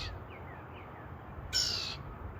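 Wild birds call and sing outdoors, with a few thin chirps early on and a brighter, louder bird call partway through, all over a low background rumble.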